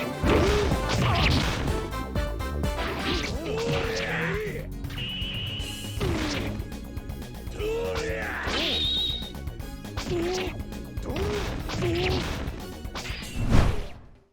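Combat sound effects from a 3D Dynasty Warriors fighting game: repeated loud smashing hits, thwacks and whooshing swings over a steady music bed, with shouting voices and bright stinger tones between impacts.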